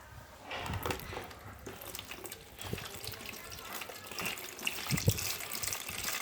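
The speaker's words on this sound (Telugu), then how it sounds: "ఈ వన్ లీటర్ వాటర్ బకెట్లో వేసుకోండి" One litre of water poured from a bottle into a bucket, a continuous close splashing gush that swells and settles, with faint background noise.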